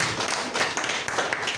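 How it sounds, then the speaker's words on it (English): Scattered clapping from an audience at a political address fills the brief moment as a loose, uneven patter of hands with no voices heard. "Can you clap for him,"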